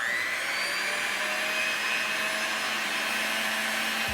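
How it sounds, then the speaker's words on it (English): An electric mixer whirs steadily and loudly as milk and heavy whipping cream are beaten into chocolate cupcake batter, a constant motor drone with no pauses and no talking. "And we're going to mix it all together."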